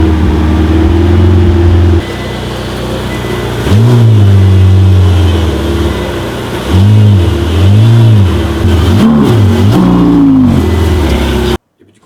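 A Ferrari sports car engine, close and loud, holds a low idle, then is blipped through a string of quick rising and falling revs before cutting out abruptly at the end.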